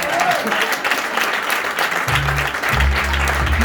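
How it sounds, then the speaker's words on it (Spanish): Theatre audience applauding a revue vedette, a dense, loud, continuous wash of clapping with low sustained musical tones entering partway through. "Un aplaudiment, no, per la vedette?"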